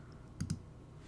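A computer mouse clicks twice in quick succession, close and crisp against a quiet room hum.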